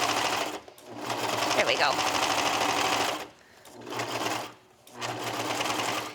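A cover-stitch sewing machine stitches a leggings seam in a steady mechanical whir, running in three runs separated by short pauses, with a person talking briefly over it.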